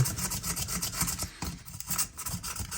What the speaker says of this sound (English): I'm going to get a piece of sandpaper here and show you what I mean.